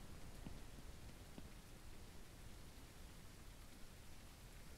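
Steady rain falls in the farming video game Ranch Simulator, a soft continuous patter with no voices and no thunder.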